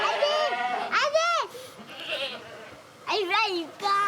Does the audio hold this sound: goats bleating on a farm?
yes